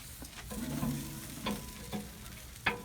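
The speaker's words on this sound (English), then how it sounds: "It'll land on that other rack, and you can hear it sizzling." Steady sizzling and crackling of ribs cooking in a smoker, dripping onto a rack, with a few sharper pops and clinks cutting through the continuous hiss.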